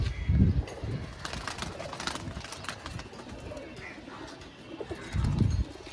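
A pair of white homer pigeons coo nearby, with deep throaty coo bursts at the start and again near the end, set against a busy background of other birds chirping.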